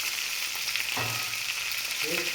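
Fish sizzles steadily in a frying pan, soft and close, with a couple of faint clinks and tones over the hiss.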